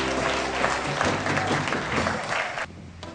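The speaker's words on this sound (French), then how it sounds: "Que quelqu'un applaudisse pour le divin vigneron" A church congregation applauds during a sermon, dense sustained clapping filling the space for a few seconds before cutting off abruptly, with a voice faintly underneath.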